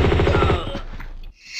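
Rapid gunfire from the PC game Tomb Raider II, a dense loud burst of repeated shots for over a second that cuts off abruptly, followed by a brief higher game sound.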